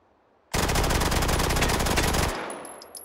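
Submachine gun firing full auto in the VR game Hot Dogs, Horseshoes & Hand Grenades, one loud sustained burst of rapid shots lasting nearly two seconds, then a short fading tail with faint clicks.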